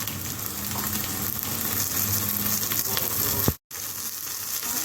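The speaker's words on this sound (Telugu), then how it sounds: "ఒక పెద్ద స్పూన్తో అల్లం వెల్లుల్లి పేస్ట్ వేస్తున్నాను పచ్చిమిరపకాయ ముక్కలు వేస్తున్నాను" Ginger garlic paste and green chilli pieces fry loudly in a hot pan, a steady dense sizzle that carries on without a break before a brief cut near the end.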